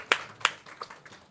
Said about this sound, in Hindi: ए माता जी के लिए दूर से तालियां बजाओ